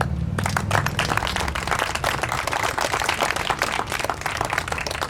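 Audience applause at a Euro Festival event on the Esterel Côte d'Azur, a dense, steady wash of many hands clapping close and loud throughout, with no voices over it.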